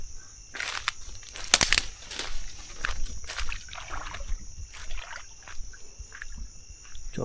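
A small boat setting out on a river in the evening, with paddle strokes and water splashing close by, scattered knocks and movement, and insects and birds faintly audible in the background.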